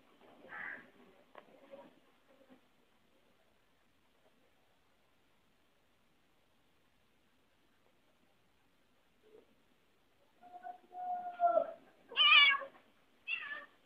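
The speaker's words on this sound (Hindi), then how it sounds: "ये डरती नहीं है, म्याऊं करती है बस।" A fearless cat sitting at a home doorway meows a few times, with soft vocal sounds at the start, a long quiet stretch, then several louder, clearer meows close by toward the end.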